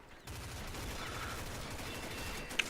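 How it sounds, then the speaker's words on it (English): Far-off gunfire in the Combat Arms video game, a quiet, steady rattle of rapid shots pulsing on for a few seconds with one sharper crack near the end. "I hear a lot of sounds, a lot of things getting shot over there"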